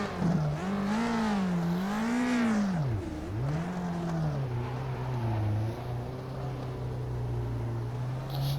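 A Lotus 49b race car in rFactor 2 lapping, its engine rising and falling in pitch through gear changes and corners, a loud, close, continuous howl with steady revving.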